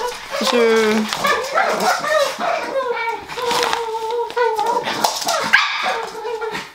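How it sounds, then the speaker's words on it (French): A dog barks and whimpers with short yips and whines, close and fairly loud, mixed with a voice and other talk in an indoor room. "c'est cette chose qui a aboyé"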